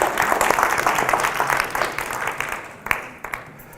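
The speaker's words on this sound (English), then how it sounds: "Let's give him a round of applause." Church congregation applause, a broad wash of clapping from a seated audience that is loud at first and gradually thins out over a few seconds, with a few sharper claps near the end.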